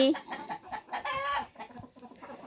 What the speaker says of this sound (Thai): ไก่ตกใจ ไก่ตกใจหมดเลย